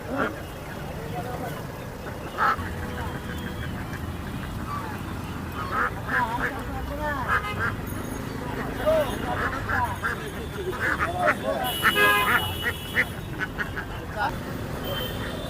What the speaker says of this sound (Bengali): তারপরে হাঁস রয়েছে এখানে